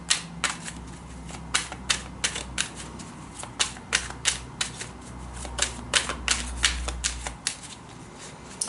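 Tarot cards are being shuffled by hand in a rapid run of crisp riffling snaps and flutters, close and clear, continuing steadily for several seconds.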